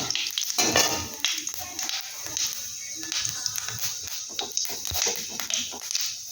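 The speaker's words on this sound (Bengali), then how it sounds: "দেখো জিরে ফোড়ন দিয়ে দিলাম, জিরাটা একটু ভেজে নিচ্ছি।" Cumin seeds frying in hot oil in a wok, a continuous close sizzle and crackle with scattered spatters and faint stirring scrapes.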